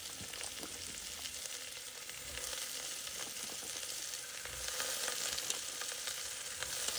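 Potatoes frying in hot oil in a pan while being stirred, for a drumstick (moringa) curry, give a steady close sizzle with occasional scraping stir sounds, continuous and even throughout with no talking.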